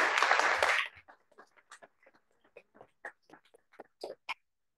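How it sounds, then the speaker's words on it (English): An audience at a science seminar applauds as a speaker is called to the stage: a dense burst of clapping for about a second, then trailing off into scattered, sparse individual claps. "Round of applause for Beth."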